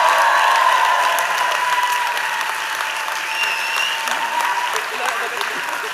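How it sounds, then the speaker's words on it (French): Loud, steady applause fills a theatre at an awards ceremony for a press prize, the dense clapping fading slightly over time while cheers and voices rise through it. "On peut les applaudir très fort"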